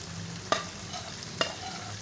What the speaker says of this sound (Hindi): हमने आलू को भून लिया है। अब हम इसमें अपने मसाले डालेंगे